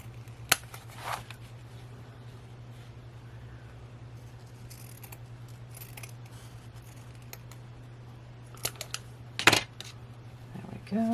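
A few faint, sparse snips of scissors trimming lace for a handmade October junk journal, heard over a steady low hum and quiet room handling noises.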